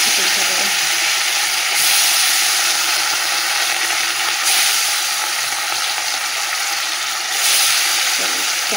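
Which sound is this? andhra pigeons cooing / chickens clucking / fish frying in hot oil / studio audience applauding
fish frying in hot oil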